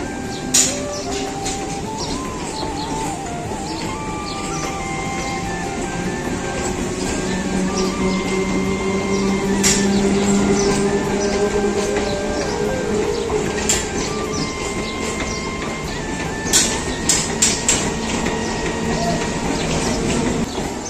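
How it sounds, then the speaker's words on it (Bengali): A local train departs Lakshmikantapur station, producing a steady, loud rumble of wheels and carriages with sustained tonal whines and occasional sharp clanks throughout, and no talking. "লক্ষ্মীকান্তপুরতে ট্রেন ছাড়লো সবে মাত্র"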